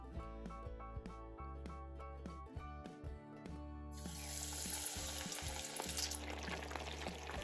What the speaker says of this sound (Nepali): अब यो माछालाई म फ्राई गर्दैछु